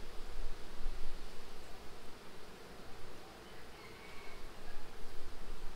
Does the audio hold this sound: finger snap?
no